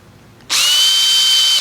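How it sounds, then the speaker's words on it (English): A random power drill starts up sharply after a brief quiet moment, then runs at a steady high-pitched whine, loud and close, with no talking. "So we found a random power drill, apparently."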